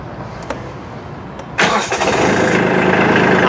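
A Kubota B2741 compact tractor's engine cranks briefly and catches, settling straight into a steady, loud close-up idle.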